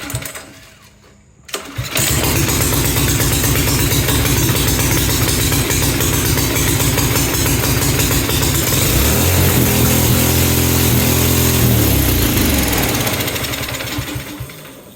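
A small gasoline engine with choke on starts after a brief quiet moment and then roars loudly and steadily at full throttle, a stuck high rev held without letup before easing slightly at the end.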